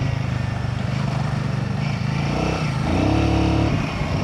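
A motorcycle with about 13,000 km on it revs on a road, a steady close engine drone whose pitch rises toward the end, loud and continuous.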